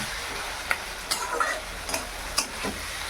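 Meat and spices frying in a pan, with onions already browned and a small amount of goat meat added. Soft sizzling runs throughout, with a few sharp stirring clinks and scrapes that rise above the steady frying.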